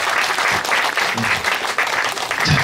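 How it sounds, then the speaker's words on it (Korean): A crowd at a Korean agricultural festival, during a pumba performance, applauds in a continuous, full wash of clapping that stays loud and even for nearly three seconds. "박수 한 번 쳐주세요"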